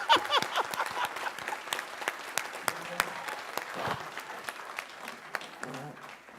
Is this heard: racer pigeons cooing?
no